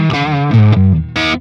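A Les Paul electric guitar played through a Friedman IR-X on channel one with bass, mid, treble and gain all at 10 gives a short, loud, distorted burst of a few sustained notes and a final chord.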